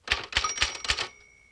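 Manual typewriter on a 1960 touch-typing instruction record, a quick run of four sharp mechanical clacks ending in the carriage return, then a fading ring with silence after.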